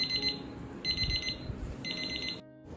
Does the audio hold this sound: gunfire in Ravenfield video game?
no